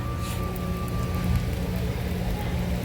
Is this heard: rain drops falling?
yes